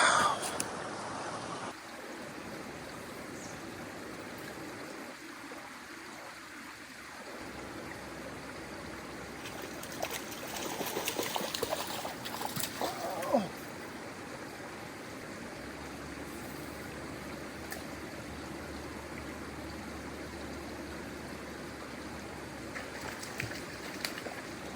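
Low stream water flows steadily near an off-grid log cabin homestead, a constant broad rushing trickle that carries on throughout, with some faint handling noise midway and no clear talk.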